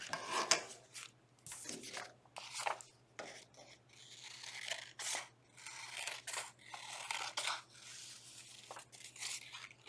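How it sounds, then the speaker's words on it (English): Repeated crisp snips of scissors cutting through paper, with rustling between cuts, close up and steady, no talking. "Remember, I'm bringing the paper to my scissors."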